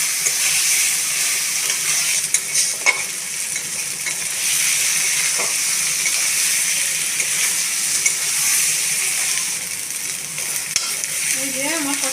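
Fried potatoes and spices sautéing in a pan for a katla fish curry, giving a steady, loud, close sizzle with occasional stirring scrapes throughout, no talking.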